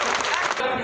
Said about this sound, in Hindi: मैं चाहूंगा कि एक बार जोरदार तालियों के साथ उनका स्वागत और सम्मान।